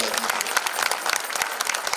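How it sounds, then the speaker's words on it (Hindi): A large audience at the Bharatiya Vyapar Mahotsav trade festival breaks into loud, crackling applause with many overlapping claps, while voices mingle faintly beneath it. "एक बार अपने लिए भी जोरदार तालियां बजा दीजिए।"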